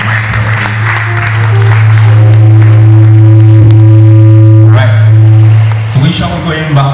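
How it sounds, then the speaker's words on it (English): Church congregation applauding at a service of songs, loud steady clapping with a sustained organ or keyboard chord underneath, swelling then shifting near the end. "A round of applause for Mr. Michael, please."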